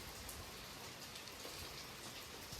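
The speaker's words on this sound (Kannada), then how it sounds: "ಮಳೆ ಬಂತು ಅಂತ." Rain falls steadily outside a cafe in the evening, a soft, even hiss of drops with faint scattered patter and no speech.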